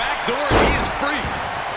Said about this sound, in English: Getting clubbed by the axe handle.